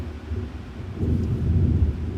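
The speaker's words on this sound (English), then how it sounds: "I told you it was thundering." Thunder rumbling outdoors near a garage where a 1970 Mach 1 is being worked on, a low rolling rumble that swells and deepens in its second half, fairly loud and sustained with no voices.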